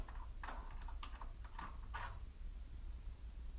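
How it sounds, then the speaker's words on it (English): Quiet, soft clicks and ticks from a screw being turned out of a Ninebot Elite scooter, a short cluster of light taps early on and then faint background hum. "So we're just going to unscrew this."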